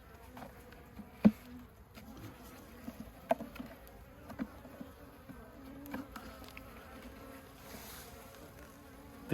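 Honeybees buzz softly around an opened hive in the UK, a low continuous hum with occasional louder individual bees passing close.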